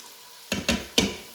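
Fresh garlic and onions in an Instant Pot give a low background sizzle, broken by three quick scraping stirs of a spoon close by, with no talking.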